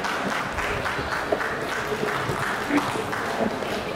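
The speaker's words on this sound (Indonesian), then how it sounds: "Tepuk tangan ya teman-teman." An audience at an Islamic book fair applauds as a speaker is welcomed onto the stage, with steady, fairly loud clapping and faint crowd murmur underneath.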